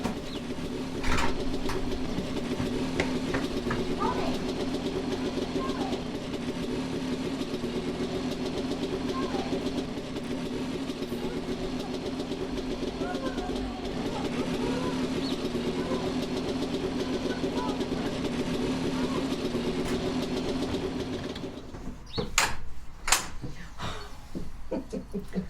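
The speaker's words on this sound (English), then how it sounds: "Ronnie has taken the scooter off the stand and is now sitting on her with his coat on." In a radio play, a mobility scooter motor hums steadily at a mid pitch as it drives away, with birds chirping around it, then cuts off near the end, followed by a few sharp knocks.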